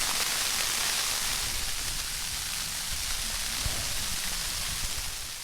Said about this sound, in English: I lay wrapped up in my warm sleeping bag as snow pelted the thin sides of my tent